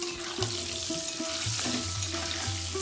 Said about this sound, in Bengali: এরপর কড়াইতে দিয়ে দিলাম আলুগুলোকে ভাজতে